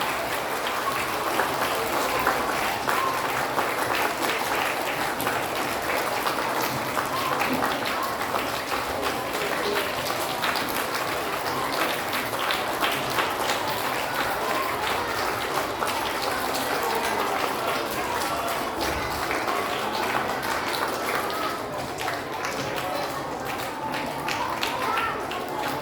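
Pupils and guests at a lower-grade school closing and prize-giving ceremony give sustained applause to third-graders receiving outstanding performance awards. The clapping is even and continuous, with rain-like patter throughout.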